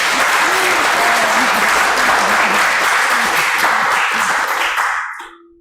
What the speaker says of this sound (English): Big applause to Kelly.